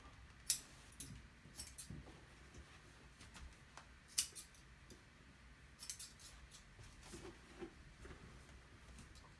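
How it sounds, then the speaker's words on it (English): Scissors snip through old bed sheet fabric in a few sharp, separate cuts spread across a quiet room, each crisp and close. "So I'm just gonna cut it."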